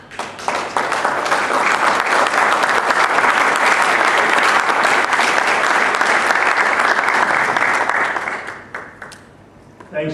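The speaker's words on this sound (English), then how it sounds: "I think an applause is worthy here." Sustained audience applause at a religious order's general chapter gathering, loud and dense for about eight seconds before thinning out and fading near the end.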